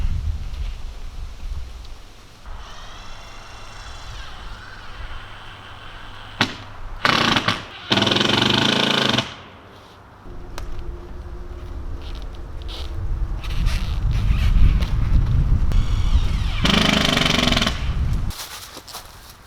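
Large 5.5 inch screws are driven through OSB sheathing on a cabin roof. A power driver whirs in several loud, close bursts with short gaps between them, and a rougher stretch of grinding runs toward the end.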